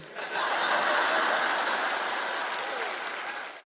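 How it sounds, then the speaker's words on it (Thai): Loud, dense applause from a large crowd, steady for about three seconds before cutting off abruptly. "โอ้ปรบมือเสียงดังมากเลย"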